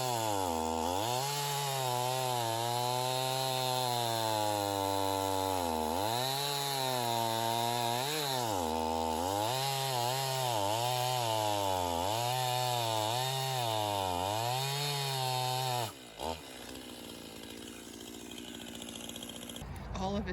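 Stihl MS271 chainsaw cutting through a tree, the engine droning loud and steady for about fifteen seconds with rhythmic pitch dips as the chain bites, then dropping to a rougher idle.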